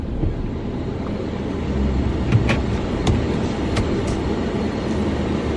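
A car drives along the road with a steady, loud interior rumble of engine and tyres, and a few faint clicks and knocks come through over it, with no talking.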